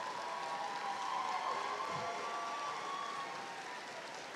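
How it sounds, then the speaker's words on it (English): Audience applause at a spring 2018 morning graduation ceremony as honor graduates stand, a steady wash of clapping from a large crowd that holds evenly throughout, slightly distant and reverberant. "Let's give them a round of applause."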